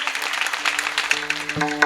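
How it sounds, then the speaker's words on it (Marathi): An audience at a devotional kirtan claps in a steady crowd patter, with musical tones from instruments rising near the end. "आपण टाळी वाजवू फार सुंदर फार सुंदर"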